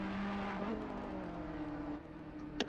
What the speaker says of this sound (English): I do love the sound of the Ferrari.